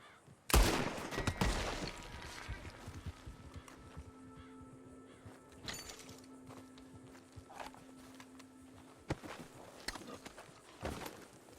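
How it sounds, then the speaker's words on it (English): Gunfire in Red Dead Redemption 2 during a bottle-shooting contest: a loud sharp shot near the start, then a few further scattered sharp cracks over a steady low hum and faint game ambience, with no speech. "Whoever shoots more of these bottles wins."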